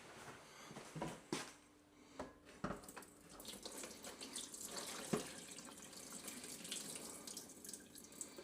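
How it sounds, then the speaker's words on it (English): Water splashes and trickles as it is drained away from chopped onion in a kitchen, with irregular pours, drips and clinks at close range, fairly quiet, and no talking. "Just going to drain a bit of that water away from that onion."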